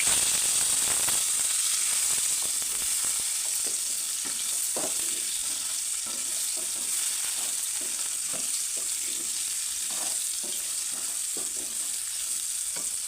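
Boiled drumstick pieces frying with cumin seeds in oil for a drumstick masala fry, giving a continuous, close hissing sizzle with soft, irregular stirring knocks through the whole stretch.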